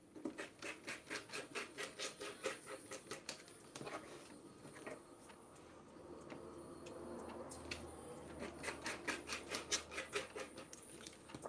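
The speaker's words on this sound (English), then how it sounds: "So this leather is easy to cut." Cow print leather pants cut into thin quarter-inch strips, with close, rhythmic rasping snips in steady bursts, a smoother dragging stretch in the middle, then quicker cutting strokes.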